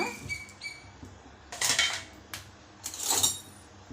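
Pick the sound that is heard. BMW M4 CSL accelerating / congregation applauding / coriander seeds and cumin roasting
coriander seeds and cumin roasting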